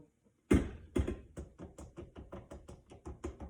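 Cookie batter being knocked off a stand mixer's beater, a sharp loud tap followed by a steady series of softer, regular knocks close by.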